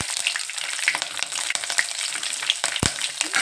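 Curry leaves and chopped green chillies fry in hot oil in a pan, a dense, bright crackling sizzle with sharp pops and a scrape of stirring, close and steady with no voices.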